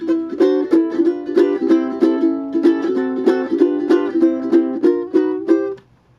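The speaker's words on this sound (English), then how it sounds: "Hawaiian style chord progression. It's called a vamp, a hula vamp." A strummed stringed instrument plays a bouncy, repeating Hawaiian hula vamp chord pattern with a steady rhythmic pulse, bright and close, ending abruptly in silence.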